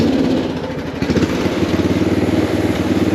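Cushman Truckster with a swapped engine drives around a yard in low first gear, its engine chugging loudly and steadily up close with a rapid throbbing pulse.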